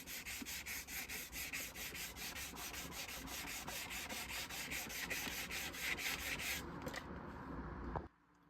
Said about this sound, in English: That only took about 5 minutes with 220 grit sandpaper, sanding it by hand.